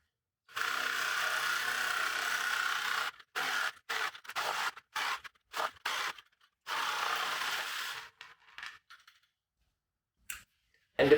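A hand saw cuts through a plastic bucket being made into a worm compost bin, first in a long steady run of strokes, then in short choppy bursts, then another long run before stopping, close and alone.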